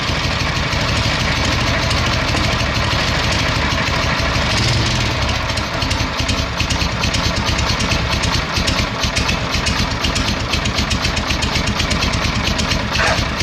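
A Chang Jiang 750 sidecar motorcycle engine idles steadily with a low, even chugging throb that holds for the whole stretch, close and loud with no voices.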